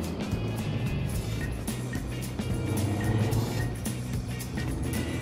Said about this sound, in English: There is a traffic jam.